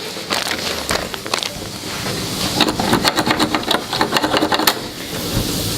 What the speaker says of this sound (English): Be careful using a drill for screwing in these screws on the back of the TV.